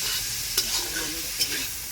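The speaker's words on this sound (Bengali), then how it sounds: "সবজি তরকারির জন্য এবার চিংড়ি মাছটা ভেজে নেওয়া হচ্ছে" Fresh prawns fry in a pan for a vegetable curry at an outdoor garden picnic, giving a steady, close hiss of sizzling oil broken by two brief stirring clinks.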